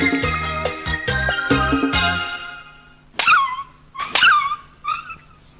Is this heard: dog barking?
yes